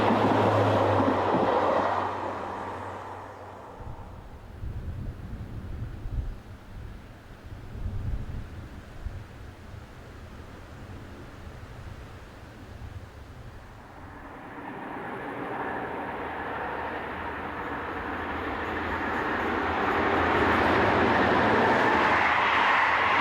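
A passenger train on the Caen to Paris line, hauled by locomotive 15053, passes with a low rumble that swells near the start and end and eases in between, heard from trackside without talk.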